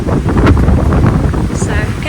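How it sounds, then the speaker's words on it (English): Strong wind buffets the microphone on a volcanic crater rim, a loud, steady rush of gusts, with someone speaking over it. "It's very windy though."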